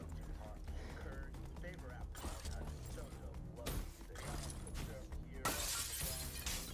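Glass shattering and crashing in Black Ops 3 freerun, several dense bursts of breaking glass over busy game sound, with a player's voice exclaiming over it.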